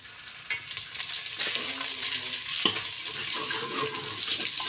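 Garlic ginger paste frying in oil in a pan, with a steady close hiss and sizzle, occasional scraping stirs, and no talking.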